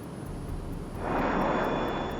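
An airliner on approach with its landing gear lowered gives a steady engine roar that swells into a louder, broader rush halfway through as drag builds. A high thin tone runs through it.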